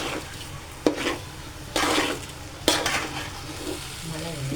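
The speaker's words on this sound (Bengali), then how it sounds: "তো চালটা দিয়ে দিয়েছি, একটু নেড়ে দিচ্ছি।" Rice for pulao is stirred in a frying pan with a utensil, giving three scraping, sizzling strokes at roughly one-second intervals over a steady low fry, heard close up.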